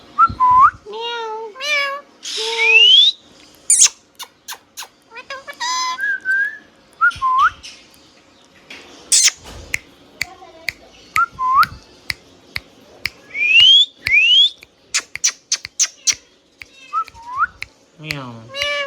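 A hand-tame green parrot whistles and calls in sharp, rising and falling bursts, with clicks and chirps between them. The sounds are close and loud, with quiet gaps between the phrases.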